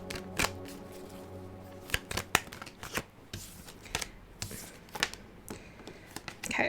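Tarot cards shuffled by hand in a quiet room, a run of crisp riffling snaps and soft sliding shuffles with irregular rhythm, close and fairly quiet, no voices.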